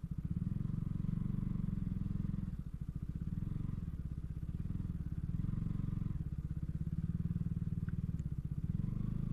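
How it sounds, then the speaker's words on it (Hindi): A heavy motorcycle such as a ZX-10R idles and putters while being ridden off-road on slippery ground, a steady, loud, low engine throb with slight rises in revs. "अरे बाइक बेटे आराम से निकल ले आराम से।"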